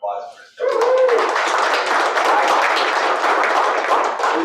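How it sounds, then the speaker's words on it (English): Audience applause at a cyber security talk, a sudden burst of steady, fairly loud clapping that holds evenly after a brief bit of speech at the start. "Give him a round of applause for his story."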